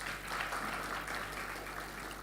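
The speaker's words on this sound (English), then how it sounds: "please clap for them" An audience at a public investment financing strategy launch claps in a steady, moderate wash of applause, heard from a distance and fairly faint, without pause.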